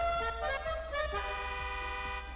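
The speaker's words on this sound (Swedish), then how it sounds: "Jag vet inte riktigt vad jag tycker om tutan egentligen." Car horn of an Entity XF supercar in GTA 5 Online, honked in several short repeated toots with a tonal, buzzy pitch over the game's steady engine idle.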